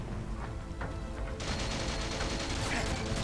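Gunfire from a shotgun in the video game 007 GoldenEye Reloaded: a steady background din that gives way to a louder, harsher barrage of blasts partway through.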